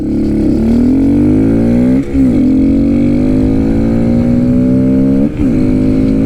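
A Honda Grom motorcycle with about 10 horsepower accelerates hard: a loud, close engine rises in pitch through the gears, with two quick shift dips along the way and no talking.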